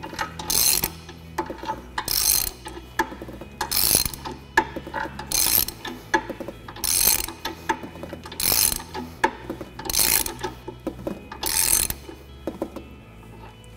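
Metal-on-metal ratcheting and clanking as one side of a conveyor take-up frame and tail pulley is shifted, heavy clacks repeating roughly every second and a half, close and loud with a mechanical rumble underneath.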